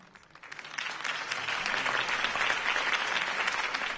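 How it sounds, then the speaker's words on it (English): Crowd applause follows a campaign speech for a city election, swelling quickly from a few claps into steady, dense clapping that fills the room. "could have heard that applause"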